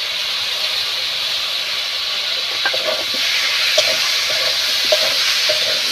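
Ginger-garlic paste and garam masala sautéing in a pan, a loud continuous hiss of frying broken by occasional spoon scrapes and taps in the second half.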